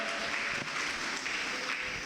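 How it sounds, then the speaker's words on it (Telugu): A church congregation claps loudly and continuously, a dense, even wash of many hands with no pauses. "గట్టిగా చప్పట్లు కొట్టండి"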